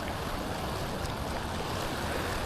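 Orange waves from an algal bloom wash onto a beach in Wales during a heat wave, giving a steady, dense roar of surf that stays constant throughout with no voices.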